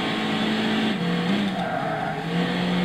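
A Toyota Celica GT-R 2-litre 16V from 1986, driven in Gran Turismo 6, holds a steady engine drone through a corner, pitch dipping and rising slightly, with faint tire noise and no talk.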